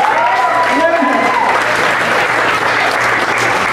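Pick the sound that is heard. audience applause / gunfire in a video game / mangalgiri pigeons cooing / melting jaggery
audience applause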